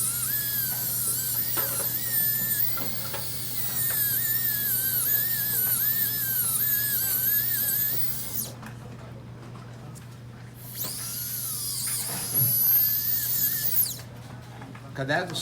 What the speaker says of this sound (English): shave off that little extra metal that flattened out